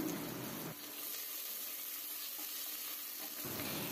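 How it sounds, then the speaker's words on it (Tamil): Steady crackling sizzle of finely chopped large onions frying in hot oil until light golden brown, continuous and close, with no talking. "வெங்காயம் லைட் கோல்டன் ப்ரௌன் கலரில் வதங்கட்டும்."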